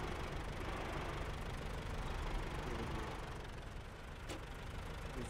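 A tractor engine in the SnowRunner game drones steadily at a constant rumbling level, close and continuous, with no talk.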